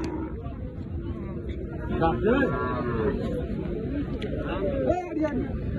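Cattle low at a busy Bangladeshi cow market before Qurbani, several drawn-out moos rising and falling over constant crowd chatter and someone talking nearby.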